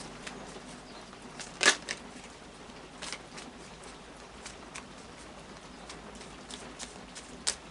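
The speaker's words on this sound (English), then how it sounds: "a final shuffle of the Light Seers Tarot" Light Seer's Tarot cards are shuffled in a few quick riffling bursts, soft and close, separated by quiet pauses.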